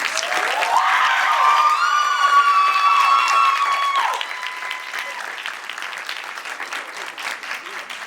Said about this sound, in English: let's give one more round of applause for all of our contestants